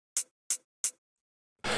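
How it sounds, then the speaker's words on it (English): Three short, bright hi-hat hits tick evenly in a triplet feel in a beat, followed by a sustained burst of hissing noise; no talking. "Then we have the hat sound, and it sounds like this."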